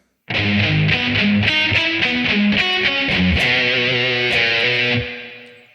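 On a heavily overdriven electric guitar, the riff is played again as brisk picked notes and shifting chords, loud and up close, finishing on a sustained chord that slowly decays.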